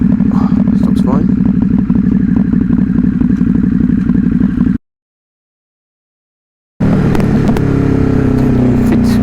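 A 2022 Ducati HyperMotard 950 SP motorcycle rides in rain through traffic with a steady, loud engine drone and wet road and wind noise. The sound cuts out for about two seconds in the middle, then the engine returns under the road hiss.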